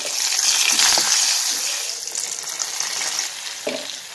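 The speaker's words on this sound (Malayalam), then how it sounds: "അപ്പോൾ നമ്മുടെ വെളിച്ചെണ്ണ നന്നായി ചൂടായി വന്നിട്ടുണ്ട്. അപ്പോൾ അതിലേക്ക് കുറച്ച് കടുകിട്ട് കൊടുക്കാം." Mustard seeds, dried chillies and curry leaves crackling in hot coconut oil, a loud steady sizzle with brief spits and pops and a faint stirring clatter near the end, no voices.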